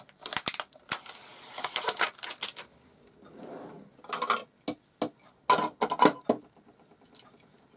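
Tonic Studios scissors cutting out paper, a close series of crisp snips and papery crackles in irregular clusters, with a softer rustle partway through.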